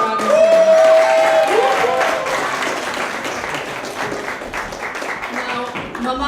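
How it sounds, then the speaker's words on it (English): Applause from an audience during a live-streamed event swells loudly at the start and then carries on as steady, thinning clapping, with a voice briefly heard above it. "Kat and Luna, give Kat and Luna a round of applause."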